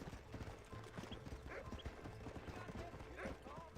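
Horse hooves clip-clop at a steady trot in the Red Dead Western video game, rhythmic and close, with a brief whinny and a voice speaking over them.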